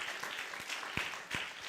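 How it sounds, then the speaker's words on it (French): Conference audience applause at a hearing-loss association congress, a steady wash of many hands clapping from a crowd, fairly even and sustained throughout. "on les applaudit bien fort parce qu'elles font un travail formidable"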